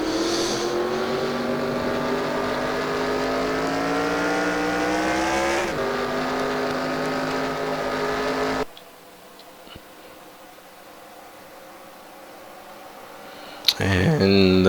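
Race cars at Coke Speedway drone along behind the pace car in a steady, engine-heavy hum that shifts pitch as they circle, then falls away to a quieter, distant rumble, with a commentator talking over it.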